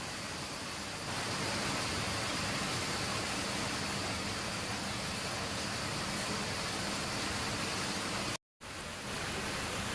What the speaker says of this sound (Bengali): অনেক জোরে বৃষ্টি নামছে,